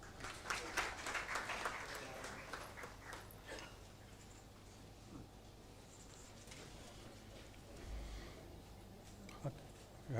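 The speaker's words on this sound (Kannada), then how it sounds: "ನಿಮ್ಮೆಲ್ಲರ ಒಂದು ಚಪ್ಪಾಳೆಯ ಮಧ್ಯೆ" Audience applause at a book launch event, a dense burst of clapping from a crowd that is loudest at the start and then thins into scattered claps and low murmur, faint and somewhat distant.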